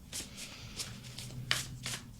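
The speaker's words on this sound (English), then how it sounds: "as we shuffle these cards" A deck of tarot cards being shuffled by hand indoors, a series of soft rhythmic riffling bursts about every third of a second, close and quiet, with no talk over it.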